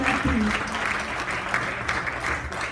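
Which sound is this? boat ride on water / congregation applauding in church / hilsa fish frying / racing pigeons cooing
congregation applauding in church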